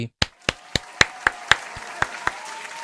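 About ten sharp, evenly spaced hand claps from one or a few nearby people, with a faint steady hum underneath.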